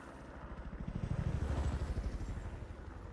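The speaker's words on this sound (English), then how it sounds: "Let's take the helicopter." A helicopter in the Hitman game, its rotor chopping in a fast, steady rhythm with a low engine drone, swelling louder toward the middle and then holding at a moderate, fairly distant level, with no talk.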